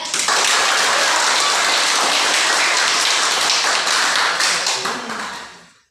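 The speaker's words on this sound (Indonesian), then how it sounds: "Bagus, tepuk tangan." A classroom of students bursts into dense, sustained applause during a maths lesson, loud and continuous for several seconds before tapering off at the end.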